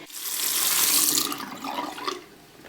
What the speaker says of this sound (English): So wet the brush first with like warm water